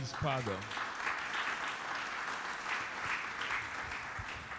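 A church congregation breaks into sustained applause for the Lord, a dense steady wash of clapping filling the room at moderate level, with a brief voice at the very start.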